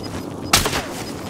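A single sharp, loud gunshot in the video game Warzone Resurgence breaks a quiet background and fades quickly.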